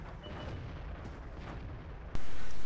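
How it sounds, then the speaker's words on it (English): Tank cannon fire in World of Tanks on the Malinovka map: a steady low battle rumble, then one sharp, heavy boom near the end that stays loud. "Seems like his team's shooting everything except that TD."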